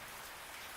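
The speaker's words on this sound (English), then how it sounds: "It's raining, but the temperature is just beautiful." Steady rain falling outside a front porch, a dense continuous hiss of drops with no other sounds.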